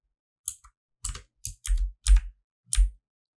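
A few sharp computer mouse clicks, single and irregularly spaced, close and crisp in an otherwise quiet room.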